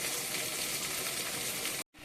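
Chopped young amaranth stalk leaves frying in hot oil in a home kitchen, giving a steady, dense sizzle close by that runs evenly for about two seconds before breaking off briefly.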